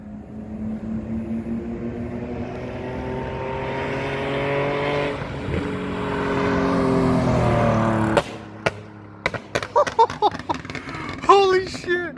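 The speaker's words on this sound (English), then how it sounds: "This is going to be the first time I'm actually hearing my car from the outside, someone else driving." A tuned BMW E46 car drives and revs, heard from outside: a steady rising engine drone builds for about eight seconds, then cuts off, followed by excited voices and short clicks.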